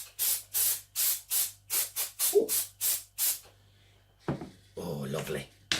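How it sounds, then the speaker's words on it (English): Aerosol lubricant sprayed onto a Well MB03 VSR clone rifle during a spring upgrade, heard as about ten short, close hissing bursts in quick succession, followed by a brief voice. "I'm going to spray that down to one side actually."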